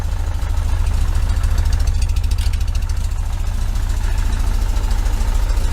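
A 1973 VW Super Beetle engine with a Dellorto FRD 34 carburetor idling steadily, a loud, even low-pitched chug with a regular rhythm that holds throughout.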